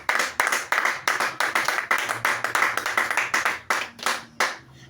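A church congregation claps to acclaim the Lord in a brisk, even rhythm, loud and close, with many hands striking together in repeated pulses for several seconds and no speech over it.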